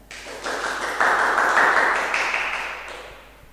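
Steady wash of audience applause at an Indonesian boarding-school nostalgia talk show, rising quickly, holding for a few seconds, then tapering off near the end.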